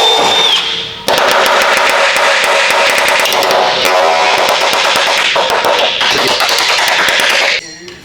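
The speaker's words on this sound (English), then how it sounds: "Air hammer." Pneumatic air hammer rattling in rapid continuous bursts against a van's metal radiator support in a repair shop, loud and close for several seconds before cutting off near the end.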